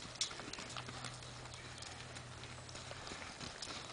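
Horse hooves clip-clopping at a walk while being prepared for riding, a close, regular series of hoof knocks with a low steady hum behind.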